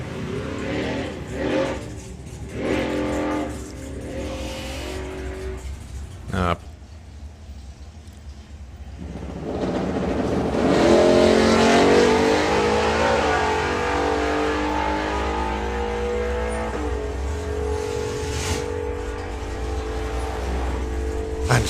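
A supercharged outlaw hot rod at a drag racing event, with engines revving in short bursts and then a long, loud, rising roar as the car launches down the strip while an announcer talks over it.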